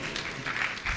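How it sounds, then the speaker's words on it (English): Audience applause at a fire and emergency management conference in Ghana, a steady, fairly soft wash of clapping that swells slightly toward the end and carries on without a break. "Shall we welcome him with a big round of applause?"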